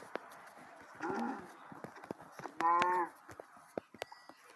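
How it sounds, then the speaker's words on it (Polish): A couple of cow moos in a video game, one muffled and one clearer, amid scattered clicks and light tapping sounds. "Dwie krowy, ale fajnie."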